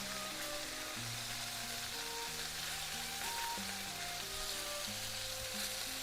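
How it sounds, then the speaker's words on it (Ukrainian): Chicken fillet sizzles steadily in a hot pan as it browns on both sides, a dense, even frying hiss that runs unbroken and close throughout with no voices over it. "Підсмажую тут м'ясо до золотистості з обох боків."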